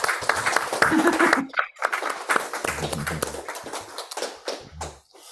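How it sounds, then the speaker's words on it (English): Hand clapping at a small online museum gathering, a few scattered claps mixed with taps and overlapping voices, fairly close and uneven in rhythm. "let's have a clapping of the hand."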